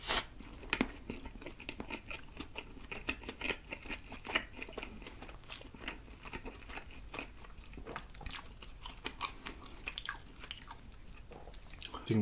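Close, steady biting and crunchy chewing of a Burger King peanut butter burger with chicken, beef and fried onions, moist crunches repeating through the whole stretch with no talking.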